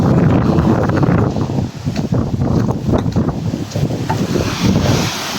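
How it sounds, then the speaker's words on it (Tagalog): Strong wind roars and gusts across the microphone at sea, with water rushing and splashing underneath, loud and continuous. "Malakas ang hangin eh."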